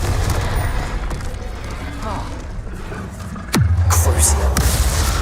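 A Confringo fire-blast spell cast in Hogwarts Legacy: a sudden loud blast with a sharp crack and a low booming tail partway through, over steady combat noise and voices.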